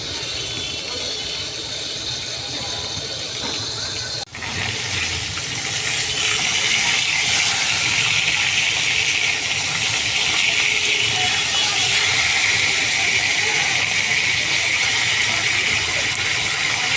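Steady rain pours outside a home kitchen, a dense, continuous hiss that grows louder after a brief break and then holds evenly to the end.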